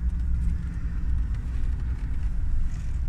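A 1989 Mercedes-Benz 420SEL W126 sedan drives slowly around a building, its steady low engine rumble close and continuous with no talk.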